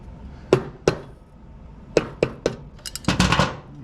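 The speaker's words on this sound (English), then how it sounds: "You'll just grab a hammer or a dead blow. Go ahead and lightly tap" A hammer or dead blow lightly taps the back side of a Toro Recycler 159cc mower engine's crankcase sump, giving about six separate sharp knocks followed by a quicker cluster of clattering hits near the end.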